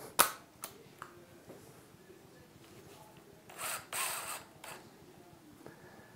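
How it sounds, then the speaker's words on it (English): A drill bit clicks and ratchets as it is fitted into a cordless drill chuck, with a sharp snap at the start and short mechanical creaks and whirs, close and quiet. "I'm placing the drill into the machine."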